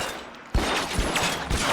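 A rifle shot fired in the video game L.A. Noire cracks loudly after a brief quiet, followed by a rapid string of further gunshot bursts with rumbling tails, close and dense, with no talking.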